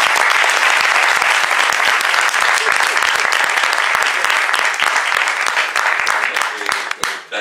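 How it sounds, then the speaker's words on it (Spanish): A television studio audience gives an actress loud, dense applause that roars continuously for several seconds before tapering off abruptly at the close. "un aplauso para ella"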